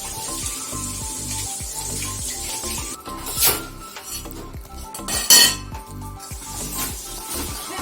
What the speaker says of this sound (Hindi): सारी चूड़ियाँ मैं आज पानी में धो देती हूँ, थोड़ा जल्दी हो जाएगी।